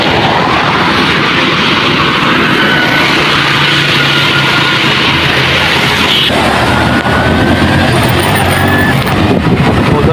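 Road traffic in light rain, with vehicles passing continuously close by and a broad, steady roar of engines, tyres and wet road hiss filling the whole stretch without pause.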